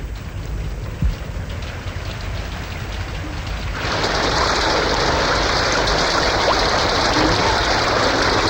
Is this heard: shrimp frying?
no